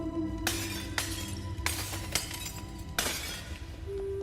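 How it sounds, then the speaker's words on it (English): Clay pots smashing one after another in Path of Exile, several sharp crashes in quick succession with shattering debris, fairly loud over a steady game background. "Just smashing all the pots for fun now."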